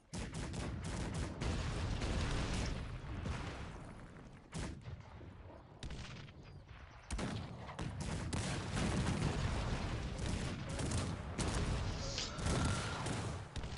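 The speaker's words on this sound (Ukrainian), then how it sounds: "Все, почав вже я настрілювати гарматами." Heavy booming cannon fire from the video game Cossacks 3 rolls almost continuously, loud and dense, with brief lulls before the barrage resumes.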